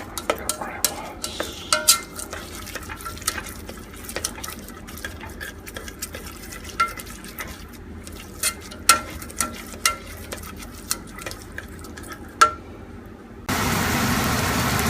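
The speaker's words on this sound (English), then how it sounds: "So yes, I'm going to add onions." A spoon clicks and scrapes against a pot as onions go into simmering spaghetti sauce with garlic, red peppers and mushrooms. The taps come irregularly over a low cooking murmur, and a louder steady noise cuts in at the very end.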